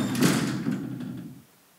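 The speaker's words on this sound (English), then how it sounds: "If you hear the garage door opening, press the red button." In the horror video game Night Blights, a garage door opens with a rumbling, sliding mechanical roll that lasts over a second, then cuts off abruptly into near silence.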